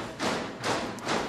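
Percussion for a dwarf drinking song, imitating dwarves banging tankards on a table: three dull, muffled thumps in a slow, even rhythm, fairly quiet and close, with no talk over them.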